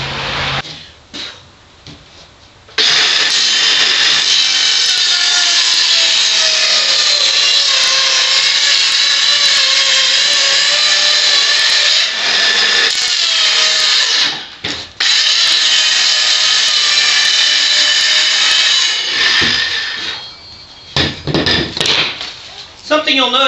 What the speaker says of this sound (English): when you're cutting with the grain of plywood, you'll notice there's a nice smooth cut along here